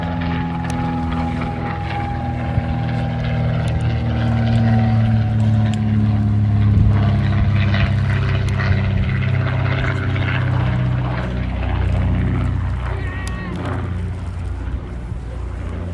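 A de Havilland Comet propeller aircraft flies at an airshow, its engines droning steadily and loudly throughout with a slowly shifting pitch as it passes, backed by faint outdoor crowd ambience.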